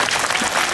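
An audience claps in a brief, dense burst of applause that stays loud and even the whole time.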